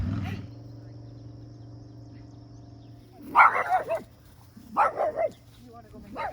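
A dog riding on a motorcycle, carried in someone's hands, lets out two short bursts of loud barking over a steady low engine hum.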